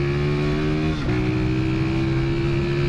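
A 1976 Honda CB125S motorcycle engine runs steadily up close, its low drone holding a constant pitch with a brief dip around the one-second mark.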